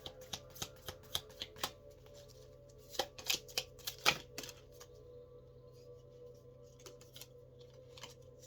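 A deck of cards riffled and shuffled in several quick bursts of crisp flapping clicks, close by, with quiet gaps between bursts.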